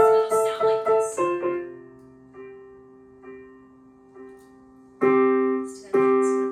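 Piano plays a few quick repeated chords, then a low bass note is held while sparse upper notes sound, before full chords return.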